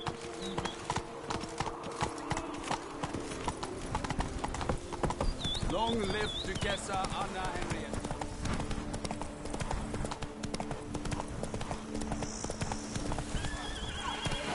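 In The Witcher 3: Blood and Wine, the horse Roach gallops with steady, close hoofbeats and lets out neighs and whinnies, while voices speak over the running hooves throughout.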